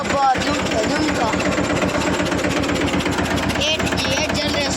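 A Captain tractor engine runs with a steady, rapid chugging beat at close range, loud and continuous throughout, with a brief clatter at the start.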